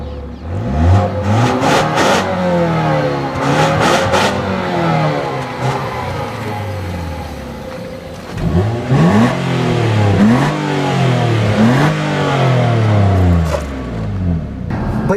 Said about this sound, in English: this 4-cylinder engine doesn't sound great